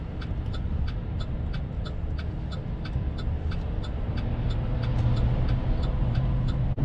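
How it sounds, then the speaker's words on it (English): A combine harvester driving along a rural road during a soybean harvest in northwest Iowa gives a steady low engine rumble with a faint regular ticking over it, continuous and fairly close, with no talk. "Dad's coming up along here in the combine."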